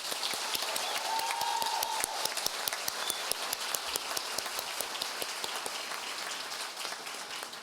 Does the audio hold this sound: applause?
yes